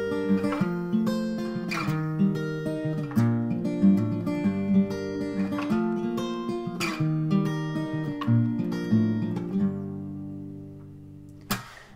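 Acoustic guitar picks a simplified fingerpicked pattern, steady arpeggiated chords ringing clearly and close, the strumming fading out near the end before a final sharp tap.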